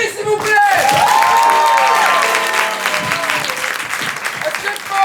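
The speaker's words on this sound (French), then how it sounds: "Est-ce que je peux avoir vos applaudissements pour Roby" Loud, sustained audience applause at an improv festival in Paris, a dense wash of clapping with a few cheers and voices mixed in throughout.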